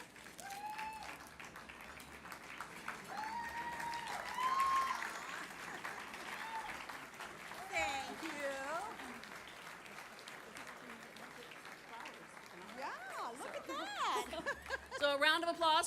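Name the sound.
audience applause for Diane at awards ceremony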